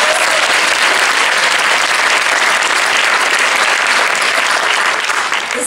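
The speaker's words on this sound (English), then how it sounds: "Give them a big round of applause" A large conference audience at a travel bloggers' keynote in Stockholm gives sustained, dense applause, a loud steady wash of many clapping hands that holds evenly throughout with no voice over it.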